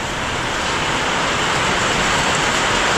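Heavy rain pours down on a road under construction as a loud, dense, unbroken hiss that stays constant throughout, with no talk.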